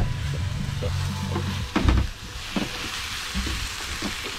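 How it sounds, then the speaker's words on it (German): Meat frying in a pan for chili con carne aboard a sailing boat on the Baltic Sea, steady sizzle with a stirring scrape midway and a few knocks, fairly close and continuous. "Wir braten uns das Fleisch an."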